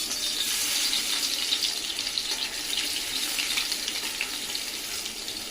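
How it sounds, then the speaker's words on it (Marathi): Garlic tempering crackles in hot oil left over from frying oysters for a dry oyster dish, a steady close sizzle that holds evenly throughout with no voices. "पहिलं लसणीची फोडणी घातली।"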